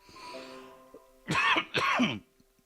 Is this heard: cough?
yes